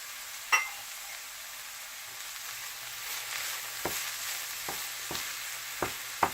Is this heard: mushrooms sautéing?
yes